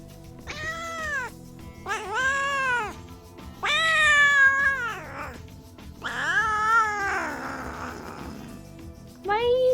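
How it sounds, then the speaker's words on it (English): A pet cat yowls in long, drawn-out wails, four or five loud rising-and-falling cries close to the microphone, with brief pauses between them. "She only sounds like that when there's another cat nearby."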